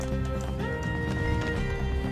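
Horse galloping in the video game Red Dead Redemption 2, a steady hoofbeat rhythm running continuously and close under game music and ambience, with no talk over it.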